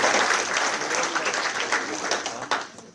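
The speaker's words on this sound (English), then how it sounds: "can we have a round of applause for all the hard-working committee members developing such a fabulous and entertaining programme." A conference audience applauds the hard-working committee members, a full, even wash of many hands clapping together that tapers slightly toward the end.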